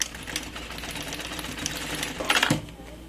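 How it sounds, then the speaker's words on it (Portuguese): A sewing machine running in steady bursts as it stitches down the strap of a large bag, close and mechanical with a quick rattling rhythm and a louder flurry near the end. "vou costurar embaixo também pra ela sentar bem essa alça"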